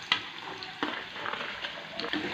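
Potatoes frying in a pan for kadai paneer, a soft nearby sizzle broken by a few distinct clinks and scrapes of a spoon.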